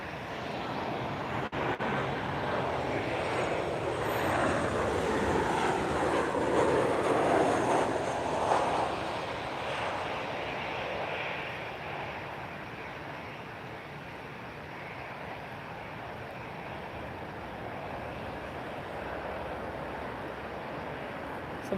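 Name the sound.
Boeing 787-900 Dreamliner aircraft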